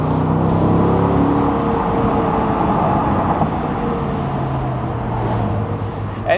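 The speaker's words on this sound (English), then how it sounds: "You'd rather listen to the car." A BMW Z8 roadster in Arctic Silver with a 6-speed manual gearbox, its engine pulling hard under acceleration as a loud, continuous drone whose pitch shifts through the gears, heard from inside the car.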